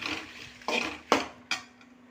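Roasted chillies for idli podi are moved from one cooking vessel into another, giving three or four clattering metal scrapes and clinks of a spoon against the pans, close and with no talk.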